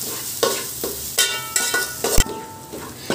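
Onions and ginger sizzle and fry steadily in a hot pan on high flame, with repeated stirring scrapes and a few louder clatters of a utensil against the pan.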